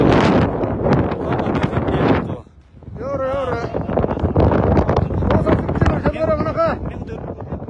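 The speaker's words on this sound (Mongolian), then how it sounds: "Аман дээр бэр салхитай байна." Strong wind gusts buffet the microphone outdoors in open countryside as loud, rumbling low-frequency blasts, briefly easing midway, while a person speaks over the noise.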